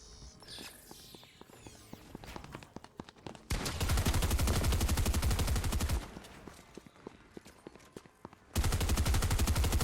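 Fortnite gunfire rattles close and loud, starting with scattered single shots and light clicks, then bursting into two long rapid automatic volleys with a short gap between them.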